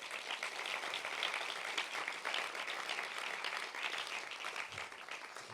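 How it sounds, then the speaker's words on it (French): An audience claps for a team after a short-film pitch at a cinema sprint event, a dense, even round of applause lasting throughout at moderate distance, with no voices over it. "vous pouvez les applaudir"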